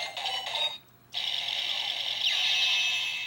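A Kamen Rider W Beetle Phone toy's electronic sound effect: a bright buzzing tone, a brief pause, then a sustained ringing warble that holds steadily to the end.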